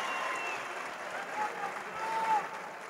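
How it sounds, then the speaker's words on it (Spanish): Applause from the audience at the official presentation of the América de Cali squad, a steady wash of many hands clapping for a few seconds with faint crowd noise and a voice underneath. "Un aplauso de nuevo para él"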